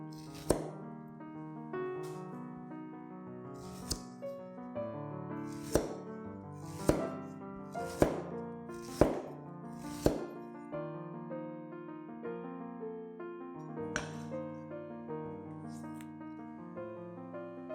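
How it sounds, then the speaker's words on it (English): Knife chopping ginger into slices on a cutting board: nine or so sharp, separate chops at uneven intervals over soft background music, with no voices. "Cut the ginger into slices."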